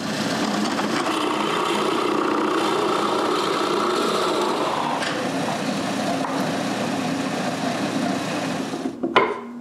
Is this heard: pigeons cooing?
no